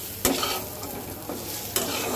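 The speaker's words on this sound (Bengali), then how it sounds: "এইবার এটাকে সুন্দর করে ভাজতে হবে কয়েক মিনিট।" Spices with coriander powder and salt fry in a pan for a thin hilsa fish curry with eggplant and potato. A steady sizzle is broken by three sharp spatula scrapes and stirs, close by, with no talking.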